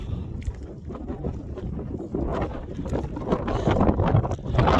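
Gusty wind buffeting on a high, barren moor along the Pennine Way between Keld and Gunnerside in sleety weather, a loud close rumbling roar that swells and builds toward the end, with no talking.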